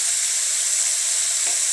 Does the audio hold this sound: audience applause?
no